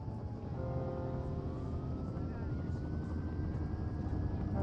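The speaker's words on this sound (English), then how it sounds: "There's the helicopter." Helicopter arriving in the video game Firewatch, a steady rotor drone with a slowly rising engine whine, held at even loudness throughout.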